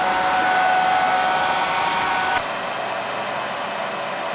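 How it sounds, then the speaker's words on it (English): A hairdryer blows hot air with a steady, loud whooshing whir, its fan dropping to a slightly quieter, lower setting partway through, with no voices. "an easy way to tell is by using a hairdryer"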